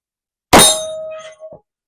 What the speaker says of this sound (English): All of these are being shot out of the Glock 20.